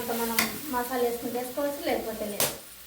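Cabbage and egg curry stirred in a pan, a steady run of scraping and clanking from the spoon over soft sizzling, with sharp clicks against the pan rim at intervals.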